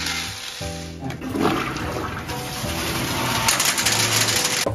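Toilet flushing during a factory ball flush test at the HCG Philippines toilet plant, a continuous rushing water surge lasting several seconds amid steady factory background hum.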